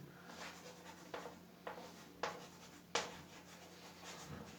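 Chalk or marker strokes on a classroom board during an economics lesson, a few soft scraping strokes with sharper taps between them, heard alone over a low steady room hum.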